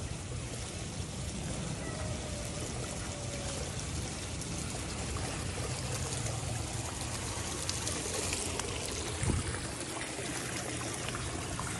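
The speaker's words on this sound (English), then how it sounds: "Look at that little waterfall." Water spills from a small artificial waterfall in an otter enclosure, a soft, steady trickling and pouring heard at moderate distance, with a faint knock near the end.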